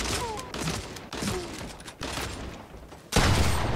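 Gunfire in the video game Fortnite, a rapid fusillade of shots in repeated bursts with a loud blast near the end, mixed with in-game sounds.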